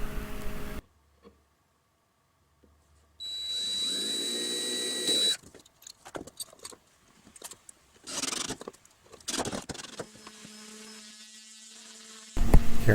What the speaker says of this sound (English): Same thing here, pre-drill your holes.